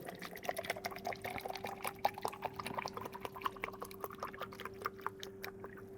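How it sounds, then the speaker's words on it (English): Cinestill DF96 developer chemical pours into a film developing tank holding two rolls, one of them Kodak Tri-X, a soft steady liquid trickle with small drips and a faint sustained tone, close and quiet. "So I'm just going to pour the chemical"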